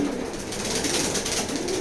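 Racing pigeons coo softly and repeatedly, close by, over a low steady background hum.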